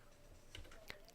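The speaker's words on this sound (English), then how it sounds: "Control D on the keyboard." Control D pressed on a computer keyboard, two quick soft key clicks close by, faint and brief against a quiet room.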